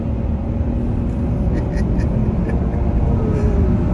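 A 2022 Toyota Tundra pickup accelerates on the highway, a loud, steady low engine and road rumble from inside the cab building gradually, with faint ticking sounds above it.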